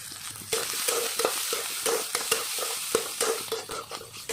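A spiced mixture fries in a pan with salt, turmeric and garam masala, sizzling steadily while a utensil scrapes and stirs it in repeated close strokes.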